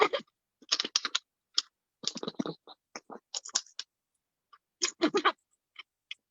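A transfer is rubbed onto a purse zipper by hand, giving close, dry scratchy strokes in quick bursts separated by short pauses.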